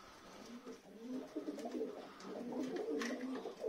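Pigeons, a male and female meeting, give soft, low coos in short repeated phrases, faint and close, with light rustling around them.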